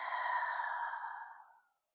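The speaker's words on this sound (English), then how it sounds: "Exhale out the mouth." A single long, breathy exhale out through the mouth during a guided breathing exercise, close and soft, fading away after about a second and a half into silence.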